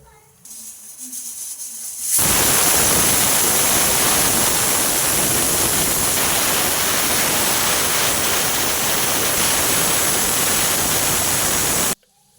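A pressure cooker of dal on the stove releases steam in one loud, steady hissing whistle. It starts abruptly after about two seconds of quieter kitchen noise and cuts off near the end.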